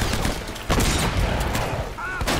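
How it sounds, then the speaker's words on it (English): Gunfire from enemies striking wooden cover crates in Uncharted: Drake's Fortune, a dense fusillade of shots and impacts filling the scene, loud and continuous with a sharper burst partway through. "they're shooting the freaking crates that I was taking cover on"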